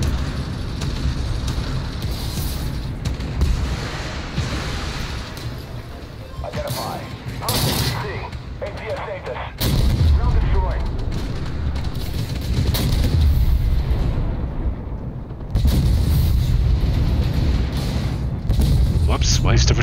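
Tank cannon shots and rumbling engine noise in Armored Warfare, with heavy booming blasts, the loudest at about ten seconds and again near sixteen, over a constant low battlefield roar, and a voice talking at times.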